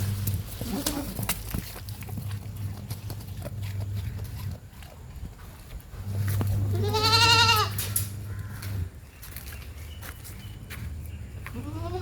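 A goat bleats loudly and close by in the middle, with a faint earlier bleat, over a steady low hum and light background rustling.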